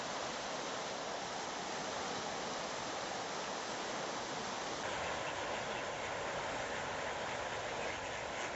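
Water pours over a weir on the River Wye at Bakewell, a continuous broadband rush that holds steady and fairly distant, with no talk.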